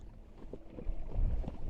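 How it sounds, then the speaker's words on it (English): Gusty wind sweeps across a lake in Quebec, a rough buffeting rumble with a few stronger low thumps, close and moderately loud, with no voices. "A gust of wind there that knocked me right over."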